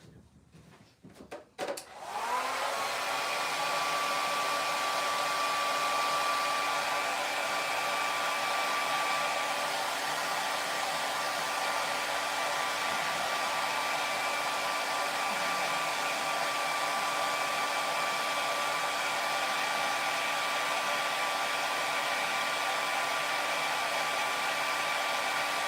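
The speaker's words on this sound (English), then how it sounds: "I'm going to hit this with my blow dryer." A handheld blow dryer runs steadily and close by for nearly the whole stretch, a loud continuous whirring airflow with a faint motor whine, drying freshly painted holiday rocks after a brief clatter at the start.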